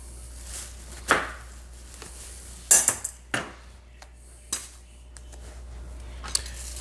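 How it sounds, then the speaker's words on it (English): A knife cutting the top off an eggplant, giving a few sharp clicks and taps of the blade against a board or dish, with a loud cluster near the middle and quieter knocks spaced out afterward. "You take your knife and cut off the top."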